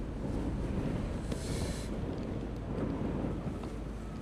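Strong gusting wind buffets the microphone at an outdoor motorsport practice session in Ireland, a steady low rumble with a brief hissy gust swell midway, loud and continuous with no voices.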